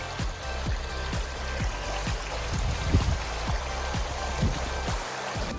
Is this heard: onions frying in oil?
no